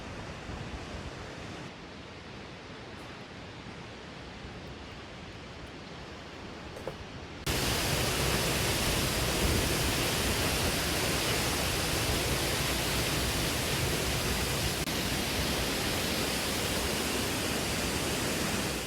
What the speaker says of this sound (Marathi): दाट धुकं आणि पावसाची संततधार त्यामुळे ठोसेघर धबधब्याचं रूप आणखीच आकर्षित करते